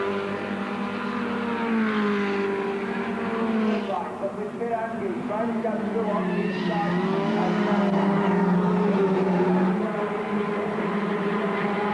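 Formula Ford race cars from 1986 drone and scream along a straight, engines rising and falling in pitch as they pass, heard under continuous race commentary.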